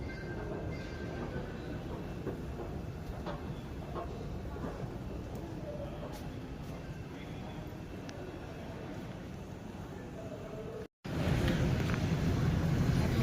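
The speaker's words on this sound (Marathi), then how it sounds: "आपण कासरवाडीच्या दिशेने मेट्रोनी जाणार आहोत" Continuous low rumble of a Pune metro train running toward Kasarwadi from Civil Court station, steady and loud, briefly cutting out before resuming slightly louder.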